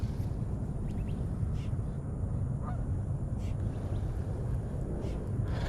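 A goose-like honk from a bird flying overhead near a roadside puddle where someone is fishing. A few short, moderately distant calls cut through a constant rumble of outdoor wind noise.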